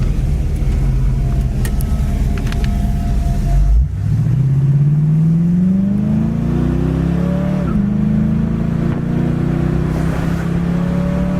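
A red 1967 Ford Mustang convertible cruising on the road, its engine droning steadily, then rising smoothly in pitch as it accelerates up to highway speed, loud and close with wind and road noise throughout.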